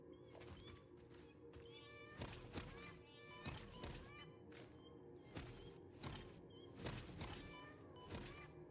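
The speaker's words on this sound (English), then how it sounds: "They make little meowing sounds" Spider creatures in a video game give repeated little meowing cries, close and frequent over a busy game soundscape with thumps and dull impacts.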